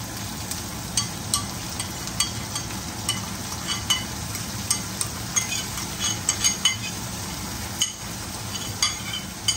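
Onions stir-frying with sauce in a hot pan, a steady close sizzle broken by a string of sharp utensil scrapes and clinks against the metal as the mix is tossed quickly, with no talk.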